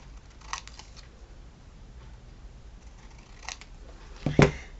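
Scissors snip a paper card in a quiet room, giving a few faint, isolated cuts and a sharper, louder snip near the end.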